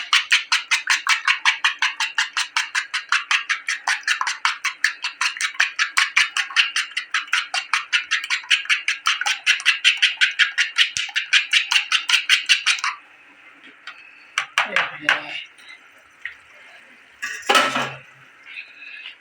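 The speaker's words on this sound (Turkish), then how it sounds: "Yumurtalarını güzelce çırpıyorum" Two eggs are whisked briskly in a bowl for menemen, a fast, even run of metallic clinks that lasts about thirteen seconds before breaking into a few scattered scrapes and taps.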